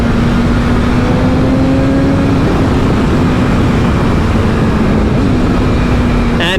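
A 2024 BMW S1000RR sport bike engine drones loud and steady up close under heavy wind roar, its pitch holding, dipping slightly and rising again as the auto blip downshifts through the gears.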